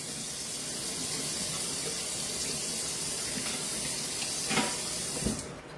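Cold tap water runs steadily over a pressure cooker lid in a kitchen sink, a constant close hiss of flowing water with a couple of brief splashing bursts near the end.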